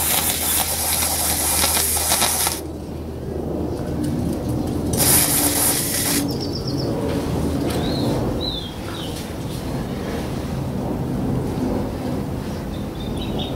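Carb cleaner sprayed into the throttle body of a Volvo XC T during cleaning: two separate bright hissing spray bursts over a steady background noise, with no voices.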